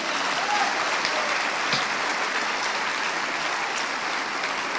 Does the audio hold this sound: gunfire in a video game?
no